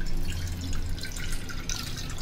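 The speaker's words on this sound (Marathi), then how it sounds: "आता याच्यात ना आपण पाणी ओतूया म्हणजे शेवया सुटसुटीत होणार" Water is poured over falooda vermicelli in a kitchen vessel to loosen the strands, making a soft, steady splashing trickle with faint drips, close and fairly quiet.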